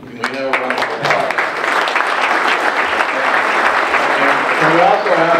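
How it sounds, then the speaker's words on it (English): An audience at a South of Boston summit panel applauding the speaker, steady full clapping from a sizable crowd filling the room, with a voice heard over it at the start and end. "Can we have a round of applause?"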